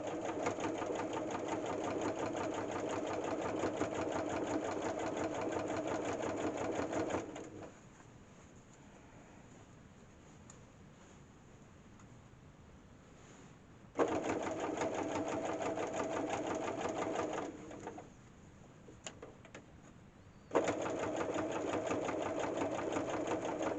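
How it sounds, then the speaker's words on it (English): A sewing machine stitches binding onto a quilt in steady, loud bursts of running stitches, stopping twice for several seconds of quiet before starting again. "I'll finish sewing the binding on and I'll show you when it's done."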